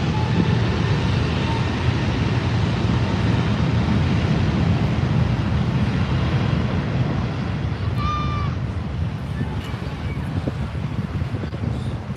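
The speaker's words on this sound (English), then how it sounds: "Virgin Atlantic flight VS8, an Airbus 350-1000 departing to London, London Heathrow Airport" Virgin Atlantic Airbus A350-1000 jet departing LAX for London Heathrow, a steady broadband roar filling the air throughout with wind buffeting, no talk over it.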